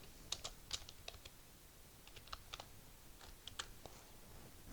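Fingers tap a computer keyboard while entering text into a table in Microsoft Word, a quiet run of scattered light clicks at an uneven pace with no talking.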